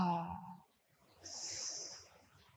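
A person takes a slow, deep breath in during a breathing exercise, a soft, airy hiss that follows the tail of a spoken voice; faint and close.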